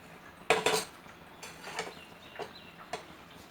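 A metal spoon stirs pasta in a cooking pot, giving a few quiet clinks and scrapes against the sides at irregular moments, with no voices.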